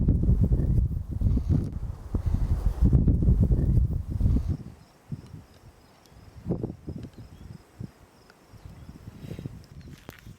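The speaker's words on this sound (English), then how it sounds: "It's actually blowing pretty good right now." Wind blowing outdoors on a North Dakota evening, a heavy low rumbling gust buffeting the microphone for the first few seconds, then easing into softer, intermittent gusts with quieter gaps.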